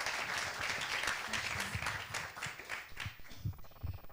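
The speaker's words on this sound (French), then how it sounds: "Vous pouvez l'applaudir d'ores et déjà" Audience applause at a startup pitch event, a steady wash of many hands clapping at moderate distance, fairly faint, thinning out toward the end with a few scattered claps.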